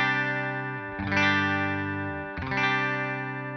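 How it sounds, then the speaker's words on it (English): Clean electric guitar through a Twin Reverb amp model on a Line 6 POD HD500x: two strummed chords, each ringing out and sustaining loudly with no talking. "that's a clean tone, just a twin reverb."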